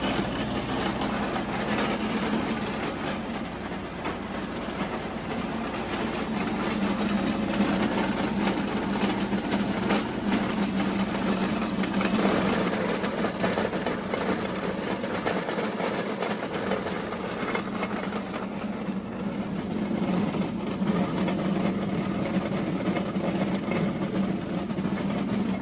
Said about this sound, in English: So this is a tractor-driven, PTO-driven Bamfords of Uttoxeter OC3 roller mill.